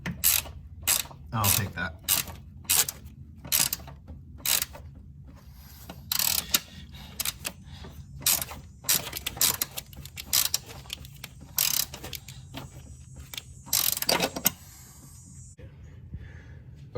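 Ratchet wrench clicking in quick bursts as a bolt is tightened on the driver-side control arm of a 2003–2008 Toyota Corolla, close and sharp with pauses between runs and a short spoken remark.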